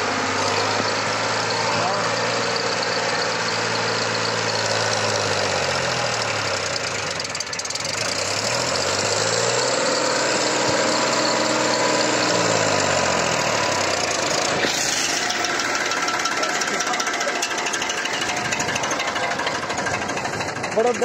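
An Escort 355 engine in high gear revs hard at full throttle, its knocking, chugging tone rising and falling in repeated sweeps while people talk over it.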